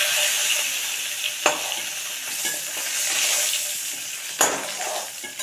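Tangra fish, pond-raised, fry in hot oil with a steady, close hiss of sizzling, and two sharp clinks of a utensil break through the crackle.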